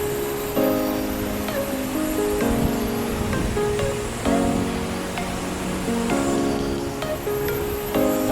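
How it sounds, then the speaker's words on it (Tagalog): Strong waves and a rushing river current after a typhoon, apparently in Cambodia, roar as a loud, continuous wash of water, with music playing over it throughout. "medyo mataas ang tubig, sobrang lakas ng alon be"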